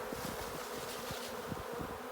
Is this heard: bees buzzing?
yes